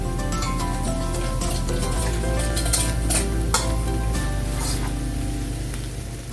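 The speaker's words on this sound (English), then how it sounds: "Add my sauce to the pot, and I'm gonna stir." Chicken chow mein with sauce is stirred in a pot, with continuous close sizzling and frying beneath the scrape and clink of utensils against metal, and no voices.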